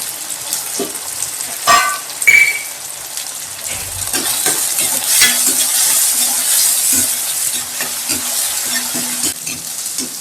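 Fenugreek seeds with a small tomato frying in hot oil for a Tamil paruppu urundai kuzhambu, a steady close sizzle with occasional stirring scrapes and clinks of a spoon against the pan.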